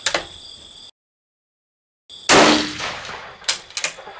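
A rifle with a very light trigger fires a single loud, sharp shot at close range after a brief silence, followed by a few smaller clanks and metallic knocks.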